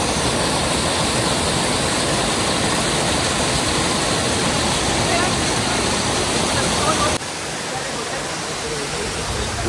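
Mountain waterfall on a stream near Ghandruk, a loud continuous broadband rush of falling water that drops slightly in level near the end.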